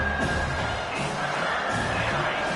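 Home crowd roaring in a football stadium during a third-down defensive play, a dense, loud, sustained wash of cheering voices throughout.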